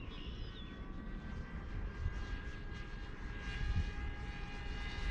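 A small Nano Talon radio-controlled model plane makes a low pass, its electric motor giving a steady, thin whine that slowly swells in loudness as it nears.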